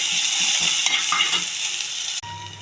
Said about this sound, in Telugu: ఇది కూడా బాగా కలుపుకోవాలి.